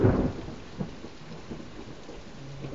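Thunder rumbles during a crazy storm, opening with a loud low boom that fades into a soft rolling grumble over steady rainfall, with faint distant rumbles continuing and no voices.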